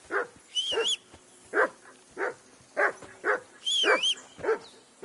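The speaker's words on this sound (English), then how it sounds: "Whistle at that mutt of yours to stop barking!" A dog in Kingdom Come Deliverance 2 barks in repeated sharp bursts with whimpering yips between them. Short, close and loud, with a higher whining cry woven through twice.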